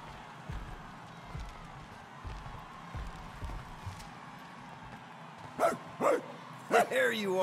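A dog in Marvel's Guardians of the Galaxy video game gives three or four sharp, loud barks near the end, after a stretch of quiet footsteps and shuffling.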